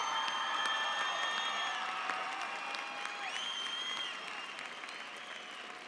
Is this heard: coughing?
no